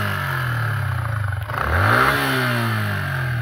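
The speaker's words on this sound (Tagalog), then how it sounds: "engine noise." A Yamaha Sniper 150 motorcycle engine with a tensioner problem hums close by, its pitch dipping and then climbing again as it revs, with a faint mechanical rattle and no talking.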